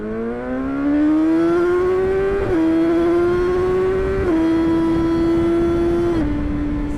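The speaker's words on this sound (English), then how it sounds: "I wanted to see a first gear run, see how much to the top speed on first gear." A motorcycle accelerates hard through a first-gear run, engine note rising steadily and loud and close, with three brief dips as the throttle shifts before climbing on; no talk.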